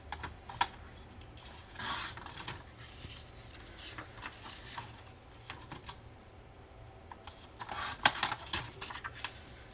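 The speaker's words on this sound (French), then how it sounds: "Et je vais couper, tout simplement." Paper for a scrapbooking card being cut by hand, with crisp snips and slicing strokes in bursts, close and fairly quiet, alongside light handling rustle and no talking.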